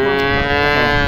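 A large cow, a Sahiwal or improved-breed animal, moos at a rural cattle market in Naogaon, one loud, close, sustained low call filling the moment.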